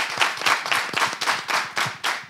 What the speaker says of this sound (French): J'aimerais qu'on applaudisse ça quand même.